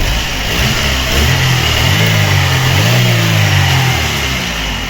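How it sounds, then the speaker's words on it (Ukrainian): A repaired Chevrolet Aveo 1.5 petrol engine runs steadily and smoothly at idle, its loud close hum holding throughout with a slight rise and fall in revs. "Ось так працює наш двигунчик. Не троїть, просто шурудить."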